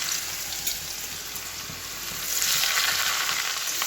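Chicken sizzles in a pan in a home kitchen, a steady crackling hiss that grows slightly louder partway through, with no talk over it.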